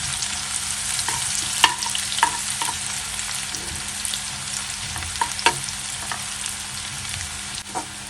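Onions frying in hot oil for Burmese-style egg street food, a steady close sizzle with occasional scrapes and taps of stirring, no voices.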